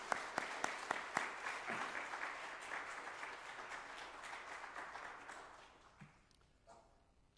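Church congregation at a revival service applauds the choir, opening with a few sharp close claps that swell into a full wash of clapping and gradually die away over several seconds.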